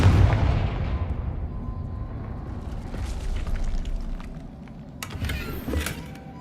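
A Confringo blast spell goes off in Hogwarts Legacy with a heavy booming explosion at the outset that rolls into a long rumble, then smaller crackling bursts later on.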